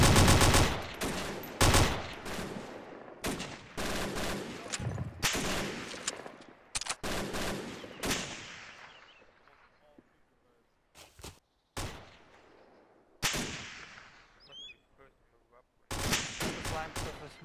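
Bursts of gunfire aimed at enemies running through smoke, loud and close, with rapid volleys and single shots, broken by brief pauses and a stretch of fading echo, then resuming in sharp repeated bursts.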